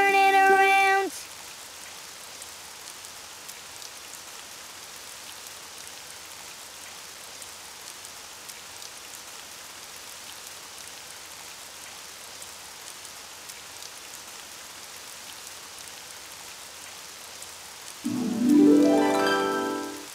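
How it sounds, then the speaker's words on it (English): Steady rain patters softly for a long stretch, fine drops hissing evenly, with brief louder tonal sounds at the start and end. "Oh, it's raining outside."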